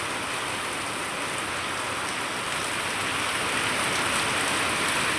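Steady rain falls without pause, a dense even hiss growing slightly louder toward the end, with no voices.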